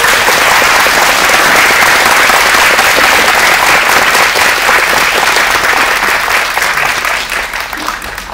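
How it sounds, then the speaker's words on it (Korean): Loud, dense applause fills a cinema auditorium as an audience welcomes director Miyake Sho to a post-screening talk at CGV Yongsan. The clapping stays sustained and full, then eases off slightly toward the end. "입장하실때큰박수로환영의인사를보내주시기바랍니다"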